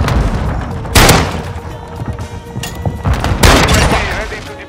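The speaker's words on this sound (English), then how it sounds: "I'm shooting!" Gunfire in a first-person shooter video game, a few loud bursts around the first and fourth seconds over a busy mix of game effects, with someone talking throughout.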